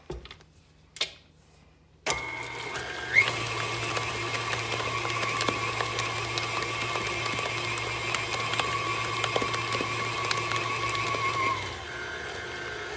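An electric mixer mixing chocolate chip cookie batter whirs steadily for about ten seconds with a high, even whine, then winds down. A few clicks and knocks come before it starts.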